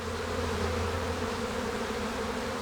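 Honeybees from a healthy open hive buzz steadily and densely close by, a continuous droning hum with no voices.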